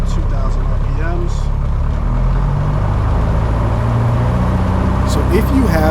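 A small aircraft's piston engine runs up to 2,000 RPM during a pre-flight check on a first solo flight, a loud, steady drone holding throughout under intermittent talk.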